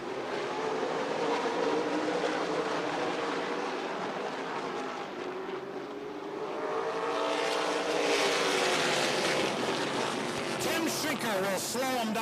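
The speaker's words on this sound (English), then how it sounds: "They're going to get a couple of warm-up laps right here." Super late model race cars run warm-up laps at Slinger Speedway, a steady roar of engines swelling and fading as the cars pass, with Doppler sweeps near the end and an announcer talking over the noise.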